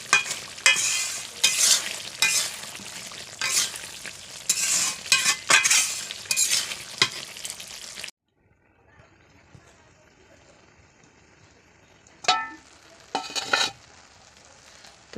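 A spoon scrapes and stirs chicken bhuna khichuri in a pot, with sizzling and busy scraping for about eight seconds, then near-quiet before two short bursts of stirring return.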